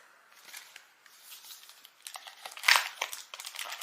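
Plastic packaging crinkles and rustles as a package is opened, with scattered crisp crackles and a louder burst of crumpling partway through, close and fairly quiet.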